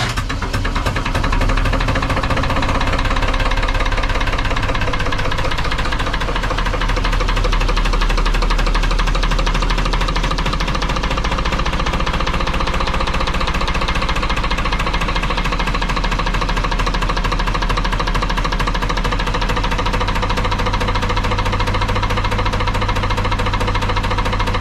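A vintage Lister HW3 three-cylinder narrowboat engine runs loud and close throughout, its rapid, heavy knocking beat steady and mechanical with no speech over it.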